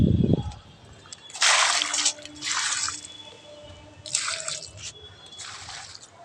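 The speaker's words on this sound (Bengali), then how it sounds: "গাছে একটু জল দিচ্ছি" Garden plants being watered: bursts of water pour and splash onto leaves and soil in four separate gushes, close and fairly loud, with quieter dripping between them.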